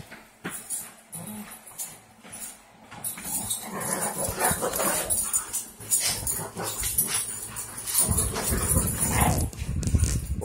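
Puppies play-fight and tug on a rope indoors, giving off whimpers, yips and scuffling under a steady background hum, with occasional voices nearby.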